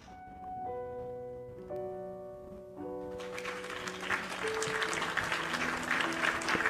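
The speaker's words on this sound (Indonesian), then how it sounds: "Suara tepuk tangan kedengeran nggak?" A few gentle piano notes give way to steady applause that swells in after about three seconds and keeps going, dense and fairly close, with no speech over it.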